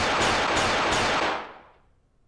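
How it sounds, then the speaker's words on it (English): Gunfire in the Collar X Malice visual novel game, a loud burst of several rapid shots over a dense roar that fades out over about a second, ending in near silence. "Gunshots rang out during the declaration, and the police officers were shot."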